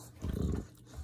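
A dog growls low and rough while biting at sandals, a close, rumbling snarl that swells in the middle and fades, with no speech over it.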